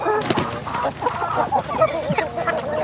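Chickens cluck and squawk close by in a busy, overlapping chorus of short calls.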